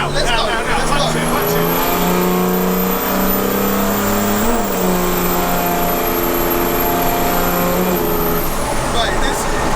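A heavily modified mail truck accelerating hard, its engine note climbing loudly and steadily before easing off, close and dominant, with a voice briefly heard over it.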